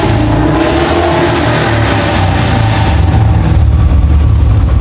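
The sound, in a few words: Royal Enfield Bullet 350 motorcycle engine running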